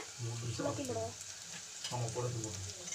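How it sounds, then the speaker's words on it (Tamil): Onion, tomato and ginger garlic paste sauté in a pan with a continuous soft frying hiss, heard quietly beneath a person talking throughout. "எல்லாத்தையும் ஊற்றிட்டு ஒரு 3 நிமிஷம் விடாமல் வதக்கிக்கிட்டே இருங்க."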